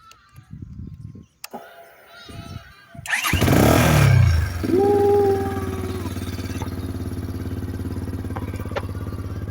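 A Taro GP 1 superbike, push-start, fires up after a few quiet clicks and a brief motor whir, catching with a loud burst and settling into a steady, throbbing idle close by.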